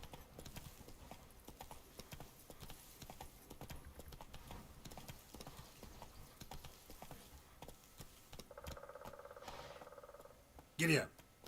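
Hooves of Roach, the horse in The Witcher 3, clop continuously at a quick, even pace amid game ambience, with a brief sharp burst near the end.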